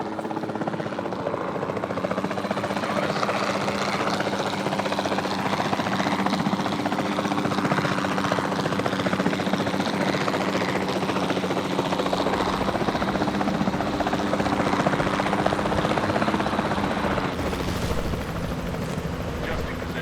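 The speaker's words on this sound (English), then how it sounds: "the sensible thing is to take a capture team helicopter" A capture team helicopter in Jurassic World Evolution 2 gives a loud, steady rotor drone that fills the whole stretch without a break.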